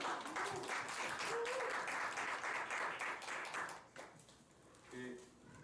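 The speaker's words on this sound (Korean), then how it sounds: "박수 한번 할까요?" Congregation applause at a church young adults' worship service, a dense wash of clapping that fills most of the stretch and then thins, with voices and chatter mixed in throughout.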